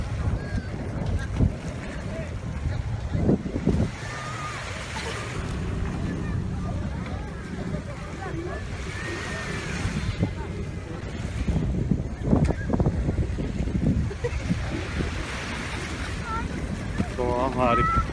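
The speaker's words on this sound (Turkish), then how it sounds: "Tur teknelerimiz böyle." A tour boat on the sea near Coron in the Philippines moves steadily along, its engine rumble blending with wind buffeting the microphone and splashing water throughout, with a voice briefly audible.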